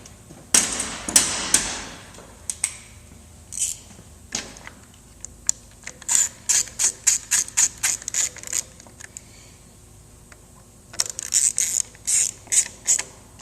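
A ratchet clicks in quick bursts of rapid pawl ticks with short pauses between, snugging the handlebar bolts on a 2015-or-newer Harley Road Glide during a tall handlebar install, close and crisp with no talking.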